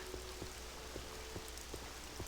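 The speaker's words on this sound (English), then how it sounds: "It is a rainy day" Steady rain falls in the Tamriel Rebuilt mod for Morrowind, a constant wash of patter with scattered heavier drops landing at a slow, uneven rhythm, heard alone at low level.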